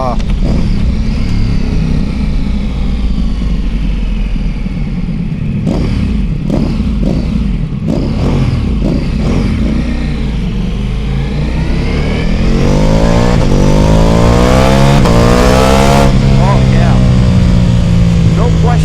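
Ducati Pikes Peak motorcycle with a BT Moto Stage 1 upgrade on a short ride, its loud engine rumbling and revving through rising pitch sweeps, with wind rush throughout and a rider talking over it.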